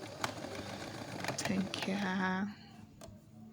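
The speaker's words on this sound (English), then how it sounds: "Okay, so I'm done sewing it." A sewing machine stitches a flare skirt in a fast, whirring run of needle strokes nearby, then stops abruptly as a person starts speaking softly.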